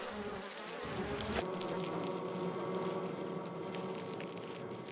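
Dense, steady buzzing of many honeybees inside a hive, a continuous close drone with shifting texture and no pauses.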